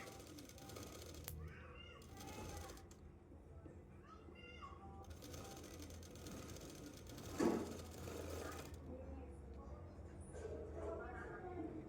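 A sewing machine stitches the shoulder seam of a blouse, a faint, steady mechanical whir that runs under a woman's quiet speech.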